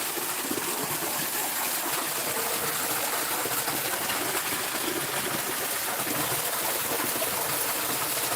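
Creek water flowing steadily along Owl Creek in a carved-out outdoor spot, a constant broadband rush that stays even and unbroken throughout, with no voices over it.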